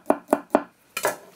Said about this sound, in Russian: Сказал я и режу всего 3 зубчика.